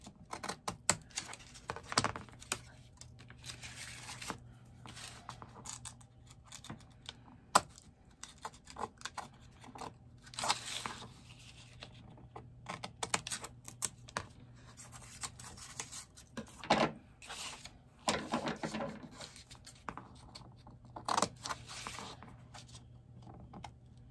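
Scissors snip the corners of a junk journal book's pages, a quiet, irregular series of short clicks and crisp cuts with small paper rustles and handling taps, close up and with no talking.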